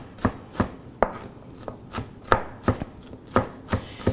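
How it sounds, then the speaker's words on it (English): A chef's knife chops onions on a cutting board in about a dozen sharp, evenly spaced knocks, close and crisp, with no voices. "You put your tip down and you just chop."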